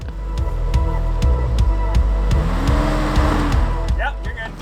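A 4x4 truck crawls along a woodland trail littered with downed trees, its engine rumbling steadily with repeated sharp knocks and thumps as it climbs over logs, loud and close.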